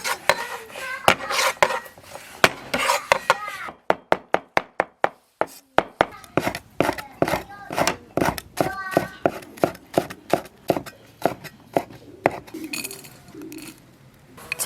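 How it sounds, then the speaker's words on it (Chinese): A knife chops ingredients for a hot-and-sour vermicelli dressing, likely scallions, chili and garlic, on a board, with rapid close thuds in quick bursts and pauses and scattered clinks, while a voice talks at the start and end. "再把配料这些都切碎。"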